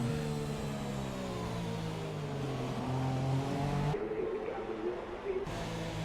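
In the F1 2017 video game, a Formula 1 car rolls into its pit box at Abu Dhabi, its engine note steady and droning with shifting pitch, ending in a brief drop before the hum returns.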